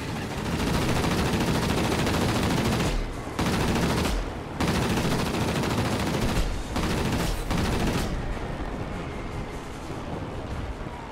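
Machine guns on a Ki-43 fighter plane in World of Warplanes fire in long, loud, continuous bursts broken by a few brief pauses.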